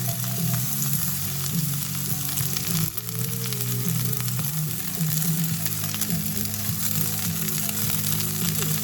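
Chopped onions sizzle steadily in a hot pan while caramelizing, a continuous close frying hiss, with low rumbling in the background as the ribs braise.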